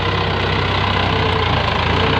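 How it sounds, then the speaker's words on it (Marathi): Tractor engine labouring at high revs while pulling through thick paddy-field mud during rice planting, a loud, steady, close rumbling drone with constant throb and no pauses. "बघा ट्रॅक्टरसुद्धा एकदम रेसवर चालतो जीव काढत एवढ्या चिखलातून"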